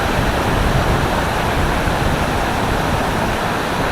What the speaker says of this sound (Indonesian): Ini air terjun yang paling bawah. Jadi jatuhnya ke sungai sana.